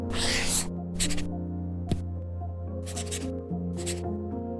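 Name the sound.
pen writing on Remarkable Paper Pro tablet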